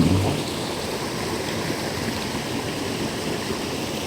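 River water flowing past bamboo beside a cornfield in the countryside, a steady broadband rush that stays constant and fairly close, with no voices.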